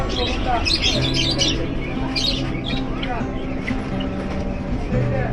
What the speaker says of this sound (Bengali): এদিকে আছে নানা রকম পাখি